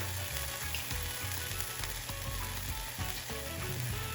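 Garlic sizzles steadily in a warm pot turned down to low, a dense continuous crackle and hiss with a low rumbling bed and faint scraping, no voices.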